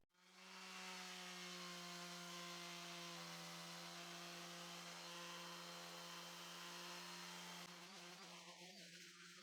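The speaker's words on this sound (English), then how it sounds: "Now I'll sand everything using the orbital sander with 120 grit sandpaper." Orbital sander fitted with 120 grit sandpaper working over wood, a steady loud motor whine with a strong even hum holding for about nine seconds, close up and alone with no talk.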